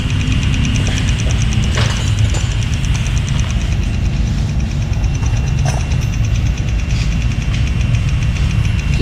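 Honda Beat FI scooter engine with a broken injector nozzle running at low RPM, a steady close buzzing idle with a rough uneven texture and faint ticking, continuous throughout without talk.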